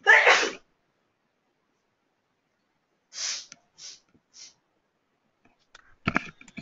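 A single sharp human sneeze bursts out at the start, followed by silence, a few soft breathy sniffs, and then some faint rustling and clicks near the end.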